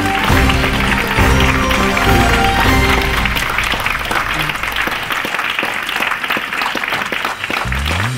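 Applause breaks out at a festive celebration in Estonia, a sustained wash of clapping from a crowd, with music-like tones over the first seconds, continuing steadily throughout.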